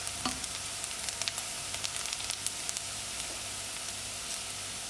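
Onions fry in a pan with a soft, even sizzle broken by scattered small pops and crackles, close but fairly quiet throughout.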